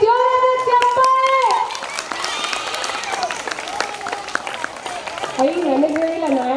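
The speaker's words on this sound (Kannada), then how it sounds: "ಸೊ ಬನ್ನಿ ಜೋರಾದ ಚಪ್ಪಾಳೆ" An audience at a Navaratri festival magic and puppet show claps loudly, a dense patter of applause that swells and fades while people talk and shout over it.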